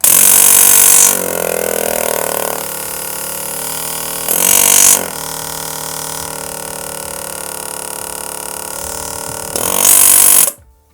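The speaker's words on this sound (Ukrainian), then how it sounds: "Зараз можемо вімкнути і послухати, як буде працювати даний компресор" A Michelin W12310 car air compressor switches on with a loud burst, then runs as a steady, fairly quiet hum with a strong airflow hiss. Louder surges come and go over it, and it cuts off abruptly at the end.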